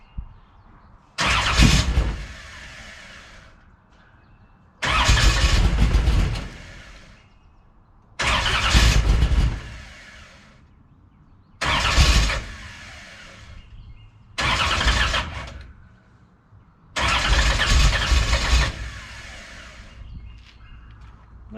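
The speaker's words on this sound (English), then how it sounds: "We're ready to go ahead and try to fire this up for the first time." Car engine fitted with Holley Sniper fuel injection cranking over in five separate bursts, each a loud rough turning lasting one to two seconds, separated by short silent gaps, never settling into an idle.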